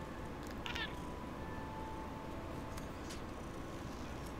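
A pet cat meows vocally during a video game session, short calls sitting over a steady hum of game background sound, with no talk.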